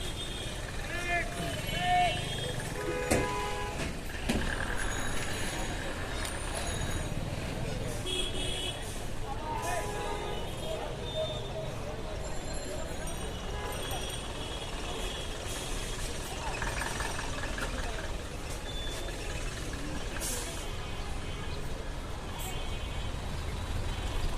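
Traffic jam on an Old Dhaka street near the court and DC office, a continuous rumble of idling trucks, buses and other engines with scattered horns, while someone talks over the din.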